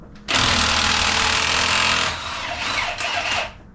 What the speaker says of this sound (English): I've got a 24mm socket on my impact gun, and we're gonna try to zap this crank bolt out.